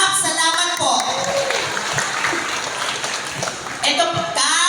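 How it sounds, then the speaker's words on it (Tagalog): Applause for a barangay captain fills a birthday celebration event, a steady wash of clapping from a crowd lasting several seconds at fairly loud level, with background music and voices underneath. "Isang palakpak kay Kapitan"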